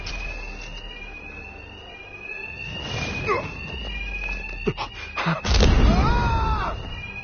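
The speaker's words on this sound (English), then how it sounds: "Two-Face's thugs won't hear me over the alarm." A continuous electronic alarm in Batman Arkham Knight rings steadily throughout, mixed with game sounds, thuds and brief voice-like bursts, ending with a louder impact near the close.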